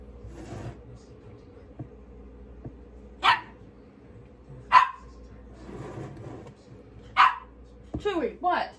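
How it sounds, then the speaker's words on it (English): A vocal pet dog barks in a home kitchen during pie making: four sharp, separate barks spread across the stretch, fairly close, with a few soft whines at the end over faint background noise. "So, my dog is very vocal."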